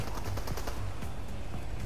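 Rapid gunfire in Fortnite, a fast, even string of shots rattling steadily and loudly through the whole short burst.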